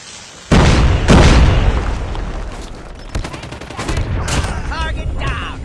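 Gunfire in Call of Duty Mobile, loud bursts of automatic shots and booming blasts, close, with rapid rattling volleys and a few heavy impacts under the game's background sound.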